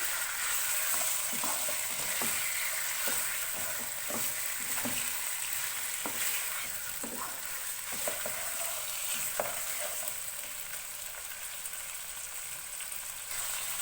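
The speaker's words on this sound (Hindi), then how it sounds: "दो तीन मिनट मैंने इसको ऑयल में फ्राई किया है ताकि इसका कलर थोड़ा सा चेंज हो जाए" Ingredients for green chicken curry fry in hot oil with a steady, moderately soft sizzle, broken by a run of light stirring taps and scrapes, no voices.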